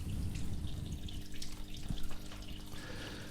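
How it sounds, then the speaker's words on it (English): A garden water feature, fed from the top through a hand-shaped spout, trickles and splashes continuously at close range, with a steady flowing wash and small bright drips throughout. "it's a water feature"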